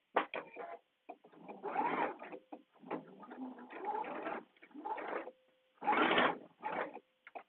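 A sewing machine bastes a seam on a day dress in several short, quiet, stop-and-start bursts of stitching, each a close mechanical whir separated by brief silences.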